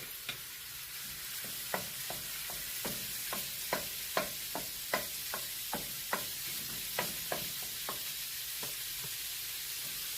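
Ground beef browning in a hot skillet with avocado oil, a steady close sizzle broken by a regular series of sharp scrapes and taps as a utensil breaks up and stirs the meat, with no talking.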